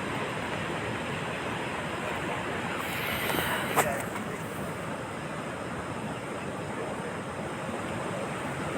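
Steady wash of ocean surf and wind noise at Varkala Beach in Kerala, fairly loud and constant, with a brief sharp sound partway through and faint voices underneath.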